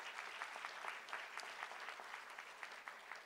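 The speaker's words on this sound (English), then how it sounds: "Let's give them a round of applause." Applause for regional superintendents of the year at a North Carolina superintendent awards event: quiet, distant clapping from a room full of people, steady throughout about three seconds.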